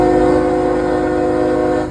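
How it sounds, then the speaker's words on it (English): A loud, sustained freight train horn blasts continuously from a westbound CSX mixed freight train, close and steady, fading slightly at the end. "I think it's gonna blast the train horn."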